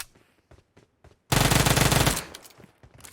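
Sustained automatic rifle fire in PUBG Mobile on the Erangel map, a loud close burst lasting nearly a second, preceded by a few scattered single shots and followed by fading echoes.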